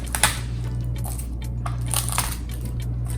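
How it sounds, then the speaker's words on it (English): Two garlic cloves get crushed by hand in a kitchen, giving a few short crunchy snaps and squishes over a steady low hum, close by and without speech. "I'm gonna crush the 2 cloves of garlic."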